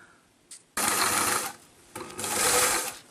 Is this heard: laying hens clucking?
no